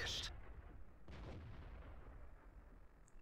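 A tank cannon firing in the video game World of Tanks, heard as one loud, sharp blast at the start, then a second burst about a second later, trailing into a low rumble.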